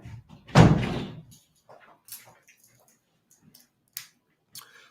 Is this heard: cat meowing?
no